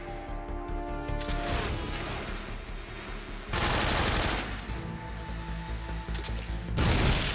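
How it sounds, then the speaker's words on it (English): Loud, dense machine-gun fire and crashing blasts from a grenade explosion in Metal Gear Solid, continuous throughout with a heavier burst midway and another near the end. "Grenade!"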